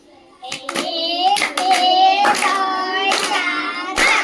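Several children clap in a classroom maths game, a run of quick claps in short bursts, close and fairly loud, with young voices mixed in.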